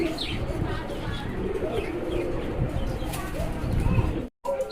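Fancy racer pigeons coo in steady low murmurs through a busy loft, with occasional chirps and soft wing flutters under scattered background voices.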